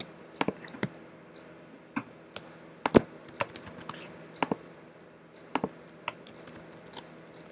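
Irregular keystrokes on a computer keyboard while coding in Xcode, a scattered run of crisp close clicks with short pauses and a faint room hiss underneath, no talking.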